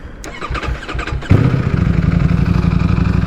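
A motorcycle engine cranks over with a few rapid starter bursts, then fires and catches into a loud, steady, throbbing idle close by, with no one talking.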